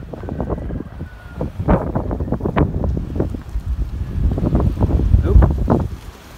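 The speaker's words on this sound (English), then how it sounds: "the wind's been crazy" Strong outdoor wind gusts buffet the microphone in repeated loud, uneven bursts, with a faint voice underneath.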